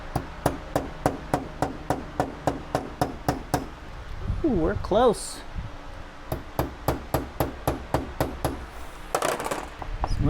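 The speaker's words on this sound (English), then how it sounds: "so I'm just gonna tap it with a small type of hammer" A small hammer taps a metal motorcycle carburetor part that has been sitting for years, in a steady run of crisp, evenly spaced knocks. It pauses briefly while a person speaks, then resumes the same rhythm.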